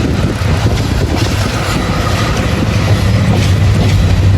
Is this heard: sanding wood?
no